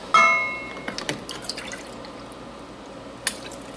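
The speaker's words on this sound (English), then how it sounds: "Now then I want 2 cups of vinegar." White vinegar poured into a measuring cup for bread and butter pickles: a brief splashing trickle with a few light drips and glassy clinks, close and fairly quiet.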